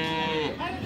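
A Friesian cow lows at a busy village cattle market in Dinajpur, a drawn-out moo with a rising tail heard close under the murmur of the crowd.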